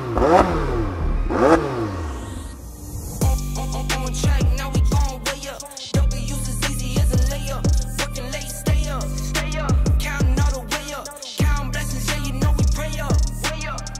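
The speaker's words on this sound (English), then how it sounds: "Give you lot some exhaust revs quick." A McLaren 720S supercar revs its exhaust in repeated loud bursts, each sharp climb and fall of engine pitch followed by a brief pause, close by and alone with no talk.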